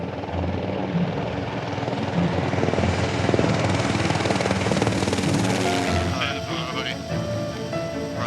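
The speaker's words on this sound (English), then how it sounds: "the helicopter is the only way to evacuate an injured person" A helicopter's steady rotor and engine roar fills the scene in Shetland, loud and continuous, then changes character near the end as other noises cut in.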